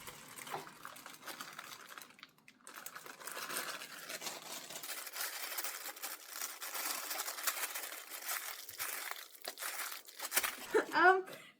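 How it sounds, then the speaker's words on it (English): Crinkly plastic packaging rustles and tears steadily for several seconds as it is ripped open with a pull string, close by, with faint clinks and voices in the background. "You can just rip it with the string."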